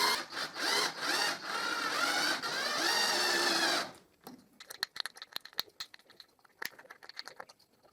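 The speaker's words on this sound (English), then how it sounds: "I screw them until the tip protrudes the other side" A power driver whirs continuously for about four seconds as screws are driven through small wood strips for a cheap Moxon vise, followed by scattered light clicks and taps of handling.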